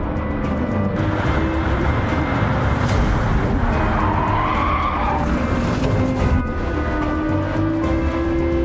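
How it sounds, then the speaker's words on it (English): Tires skid and squeal steadily as a race car brakes late into a corner in Gran Turismo 7, with engine noise underneath, loud and continuous for several seconds. "Overshooting the corner because you were too late on the brakes and failed to overtake the car in front."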